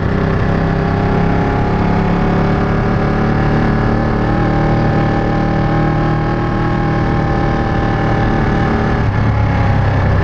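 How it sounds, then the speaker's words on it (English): Ducati 959 Panigale sports motorcycle engine running steadily, a loud, close, deep throbbing hum that holds an even tone throughout with no talking. "It has a unique sound for a sports bike. It's nearly sounding like a cruiser, and so beautiful."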